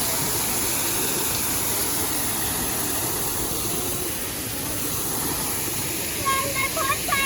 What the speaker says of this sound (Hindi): आप देख सकते हैं जिस तरह से झरने से पानी गिर रहा है